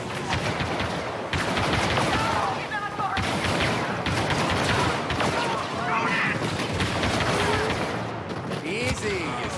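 Rapid blaster and gunfire from Star Wars Battlefront 2, dense bursts and sharp cracks firing repeatedly throughout, with voices talking over the battle.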